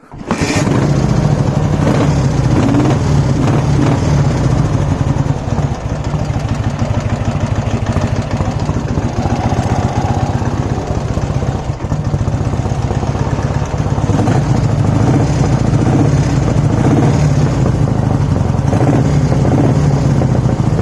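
A Dnepr MT10-36 motorcycle engine, just started after sitting unused, runs at a steady loud idle with a few light throttle blips, close and continuous with no talk.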